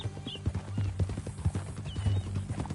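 Horse hooves clip-clop at a steady walking pace in the video game Red Dead Redemption 2, close and moderately loud, with faint harness jingles and low talk between riders underneath.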